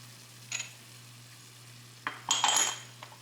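A spoon stirs Parmesan, salt and cauliflower risotto in a pan, giving a soft scrape near the start and a louder cluster of stirring and clinks toward the end over a low steady hum.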